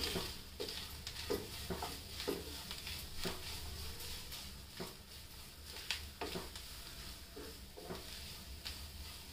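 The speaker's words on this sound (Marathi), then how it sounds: "खोबरं थोडं परतून घेऊया आपण." Grated coconut stir-roasted in a pan for sweet coconut karanji, a steady sizzle broken by repeated scraping strokes of a spatula, close up with no talk.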